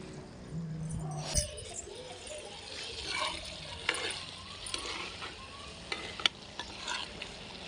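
Mutton masala curry simmering and being stirred in a clay pot over a wood fire, a steady bubbling sizzle with scattered scraping clinks of the spoon, close up.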